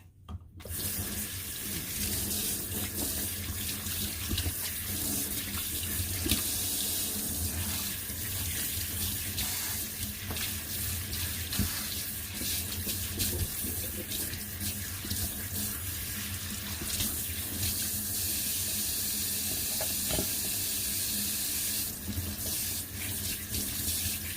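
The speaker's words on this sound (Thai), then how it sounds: "เดี๋ยวเราจะล้างน้ำแล้วก็ ล้างน้ำแล้วก็เลือกก่อนนะคะ" Tap water runs steadily into a sink while two kilograms of young Thai spider flower greens are washed, a continuous close gushing splash with slight shifts as the vegetables are handled and no talking.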